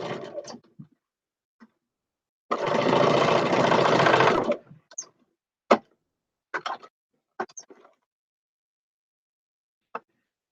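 A sewing machine stitches a New York Beauty quilt block in one steady two-second run, followed by scattered light clicks and handling sounds in a quiet room.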